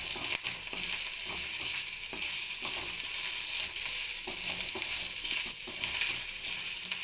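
Grated coconut roasting in a pan with curry leaves for a Kerala-style roasted chicken curry, giving a steady, continuous close sizzle and crackle with occasional stirring scrapes throughout, no voices.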